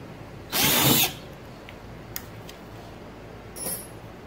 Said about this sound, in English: drill it out a little bit bigger.